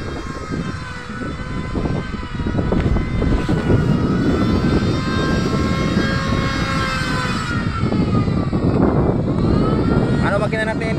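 An old Honda 13.5 engine runs on a large wooden outrigger boat, a loud, steady droning hum close by with people talking over it.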